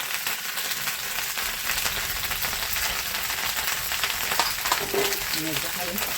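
Okra sautés in a pan for dhaba-style dahi bhindi, a steady close frying crackle with occasional stirring clatter toward the end.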